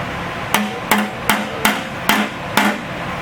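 Metal hammer blows shaping a sheet-metal rear quarter panel during rust repair on a 1995 Mazda, six sharp ringing strikes at an even, fairly quick pace, close and loud with no talk.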